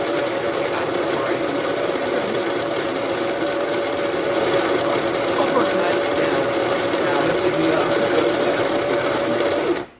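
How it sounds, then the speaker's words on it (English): A coffee grinder grinds beans at home in a steady, loud mechanical whir that runs without a break for about ten seconds, then cuts off abruptly. "So let me just grind this coffee."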